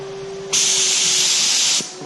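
A Fuji Mini-Mite 4 Platinum HVLP paint spray gun set to a fan pattern lets out a steady, close hiss that starts abruptly, holds for about a second and a quarter, then cuts off over a faint background hum.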